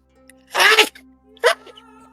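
A person sneezes twice in quick succession amid a tabletop game session, the first a longer burst and the second shorter, fairly close and loud over a low steady hum.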